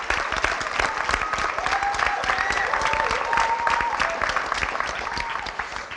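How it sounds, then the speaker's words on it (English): Sustained audience applause for the graduating class of 2019 at an adult education graduation ceremony in a hall, dense and steady for the full stretch with faint crowd voices mixed in. "Let's give the class of 2019 a round of applause."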